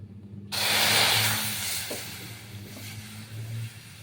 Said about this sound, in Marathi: आता मी टाकत आहे कढईत दूध